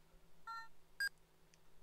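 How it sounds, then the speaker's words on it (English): Electronic phone dialing beeps from the Trauma Center: Second Opinion video game, a few short separate tones in quick succession, clear against a quiet background hum. "It sounds like someone on the phone."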